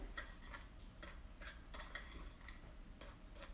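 A utensil stirring a cornstarch and cinnamon mixture in a bowl, producing faint, quiet clinks and scrapes in an irregular rhythm, about eight light taps over a few seconds, with no talking.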